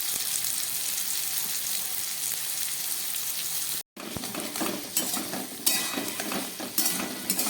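Vegetables fry in hot oil with a little salt for a Malabar spinach dish, sizzling loud and steady as a spatula stirs and scrapes the pan in repeated strokes after a brief cut.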